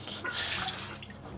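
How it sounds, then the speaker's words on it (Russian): Warm milk pours steadily into a planetary mixer bowl, a continuous close liquid splash and trickle lasting throughout, with no talking. "добавляю молоко"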